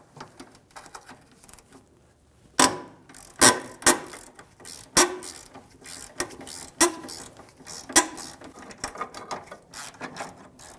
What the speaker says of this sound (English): So you're going to take a T40 and a ratchet and take that mounting bolt right off.